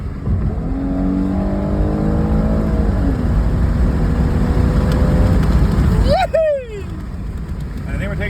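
A car on a night drive accelerating hard to warm its tires, engine tone climbing through gears under a steady road roar, with a sharp rising whine near the end.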